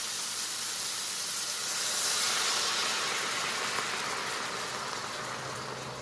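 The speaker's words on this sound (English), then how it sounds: "A little deglazing with my wine." Wine hitting a hot pan while deglazing for fresh tomato sauce, a steady broadband steam hiss that swells slightly near the middle and holds alone throughout.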